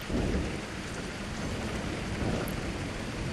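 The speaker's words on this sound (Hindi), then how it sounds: "और तभी थोड़ी देर में हल्की हल्की बारिश होने लगती है।" Steady rain hisses down in a soft, continuous patter, with no voices.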